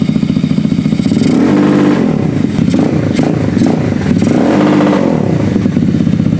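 A motorcycle fitted with an S2R racing CDI revs hard at the limiter, its loud, close engine holding high RPM and bouncing off the cut in a rapid rising-and-falling stutter throughout, with no talking.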